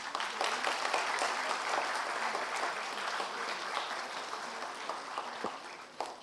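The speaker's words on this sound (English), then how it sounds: "Can we have a round of applause, please?" Applause from a conference audience at a national infrastructure summit, a dense, moderately loud patter of many hands with scattered sharper claps, steady and then tapering slightly.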